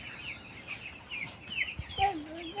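Chickens kept in a rural shed among trees cluck in short, irregular calls at moderate distance over a steady hiss of background noise, growing a little louder toward the end.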